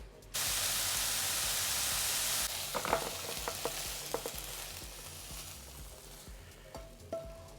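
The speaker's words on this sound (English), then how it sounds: "What's the tips on frying a steak?" Steak frying in oil in a pan, a loud steady hiss of sizzling at first, then quieter crackle with scattered clinks and spatters as it cooks.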